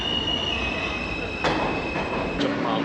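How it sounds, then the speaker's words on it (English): World Trade Center rail train running, a steady high wheel squeal over a rumbling rolling roar, with a couple of sharp clanks from the track, loud and close. "This is the World Trade Center train."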